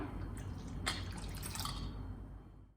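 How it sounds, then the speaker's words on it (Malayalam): Water trickles and pours into neer dosa batter nearby, with soft drips and a wet squishy splash before it fades out. "ഇനി ഇതിനകത്തോട്ട് നമുക്ക് 1 കപ്പ് വെള്ളം കൂടെ ഇപ്പോൾ ചേർത്ത് കൊടുക്കാം"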